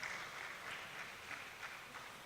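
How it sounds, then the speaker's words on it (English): Audience applause at a university hackathon event, a faint, distant wash of clapping that stays even and dense throughout without rising or falling. "Let's give him a round of applause."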